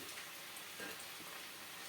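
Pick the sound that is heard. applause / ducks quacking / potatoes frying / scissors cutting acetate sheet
potatoes frying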